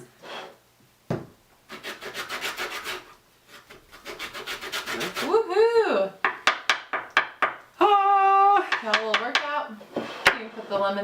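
A lemon being zested on a Microplane zester: bursts of rapid rhythmic rasping strokes, close and fairly loud, alternating with stretches of talking.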